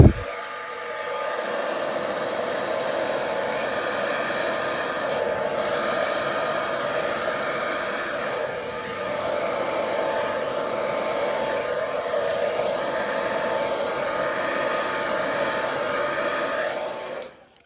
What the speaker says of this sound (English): And then with my hairdryer, I'm going to just blow that out so it blends it nicely.